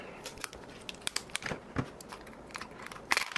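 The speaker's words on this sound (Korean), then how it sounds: "그럼 보호 비닐도 벗기도록 하겠습니다" Protective plastic film peels and crinkles off a Synology DS218+ NAS enclosure of glossy plastic, with close, irregular crackles and sharper tearing snaps over about three seconds.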